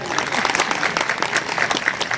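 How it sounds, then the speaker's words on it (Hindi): Dense, continuous applause from the audience at an NDMC public ceremony on Lodhi Road in Delhi, with the clapping holding an even, fairly loud level for a couple of seconds. "जरा जोरदार तालियां बजाइए।"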